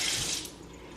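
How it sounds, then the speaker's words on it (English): Water from a kitchen tap runs steadily over a spatula being rinsed, a brief close hiss of splashing that eases slightly after the first half second. "Let me go ahead and rinse this spatula off"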